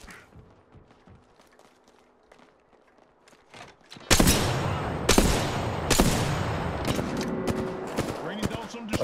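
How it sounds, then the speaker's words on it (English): Gunfire in the video game Apex Legends, starting with quiet thumps and then a loud, close burst of repeated sharp shots with heavy echoing tails, some of them rapid, under occasional game noise. "I'm finna start sniping."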